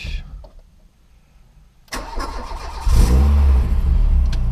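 A Renault Clio 16 undergoing a service after a fault was found: quiet at first, then the starter cranks and the engine catches, rising into a strong, close idle with a brief rev at the end.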